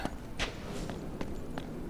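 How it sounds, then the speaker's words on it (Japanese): Footsteps of the player character in the Uncharted video game, a few soft scuffing steps spaced irregularly over a low ambient game background. "俺の足音か"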